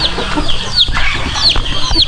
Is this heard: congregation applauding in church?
no